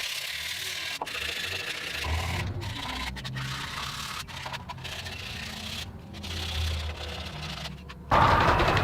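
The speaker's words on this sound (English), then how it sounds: "Just gonna sand this now, smooth up the outside before giving it a coat of oil." Hand sanding of a wooden log stomp box, a steady close scratchy rubbing with irregular strokes and brief pauses, ending in a sharper, louder scrape.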